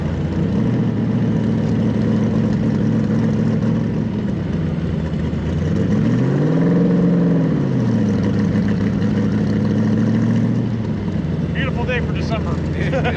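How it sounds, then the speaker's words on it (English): Stroker 347 cubic inch V8 in a 1965 Factory Five Shelby Cobra replica driving in traffic near a roundabout, a steady deep engine drone that swells and rises briefly in the middle before settling back, with people talking over it. "It's a phenomenal sound coming out of those 427."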